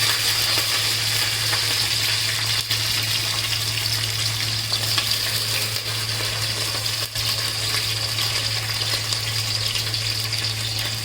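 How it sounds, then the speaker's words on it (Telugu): Green chillies crackle and sizzle in a bowl of hot oil on a stove, a steady continuous frying hiss with a low hum underneath and no talking. "నూనె తగినంత మసిలిన తర్వాత దానిలో మిర్చి వేసుకోవాలి."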